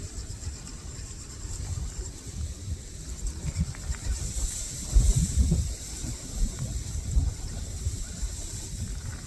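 Steady wind gusts rumble and buffet the microphone on a shoreline while fishing, rising and falling in strength with no speech over it.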